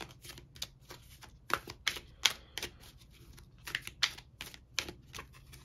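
Oracle cards are shuffled and pulled in a series of quick, crisp riffling snaps and taps, irregular clusters of sharp clicks close to the listener in an otherwise quiet room.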